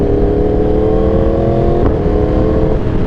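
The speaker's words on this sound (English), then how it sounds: "As you can hear it right there, the Quickshifter and the auto blip." A 2021 Yamaha R1 motorcycle engine droning loud and close, with a brief quickshifter cut and auto-blip around the gear change breaking the steady tone.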